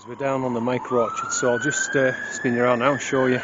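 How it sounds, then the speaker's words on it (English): Emergency sirens wail in the distance with a long rising and falling tone near a micro orchard, running steadily under someone speaking nearby. "Sorry about the sirens, the eternal sirens."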